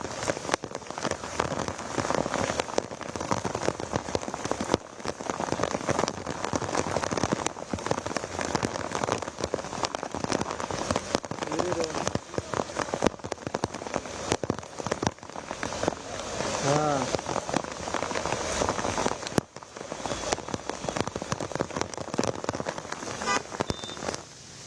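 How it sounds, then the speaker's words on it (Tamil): Heavy rain pours down in Mylapore, Chennai, a dense, loud, steady hiss of drops pattering on surfaces throughout, with faint voices in the background. "சென்னையின் பல்வேறு பகுதிகளில் திடீர் கனமழை பெய்து வருகிறது."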